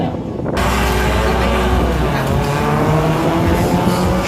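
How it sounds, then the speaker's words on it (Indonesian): A Honda Mobilio drag racing at the start line of a drag race championship on an airbase circuit in Makassar: a loud, steady engine roar that rises as the car launches, with a crowd and a commentator's voice mixed in. "Kendaraan Honda Mobilio yang saat ini berada di line A"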